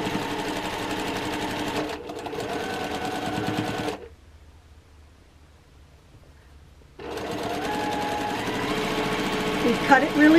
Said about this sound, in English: we've stitched it really well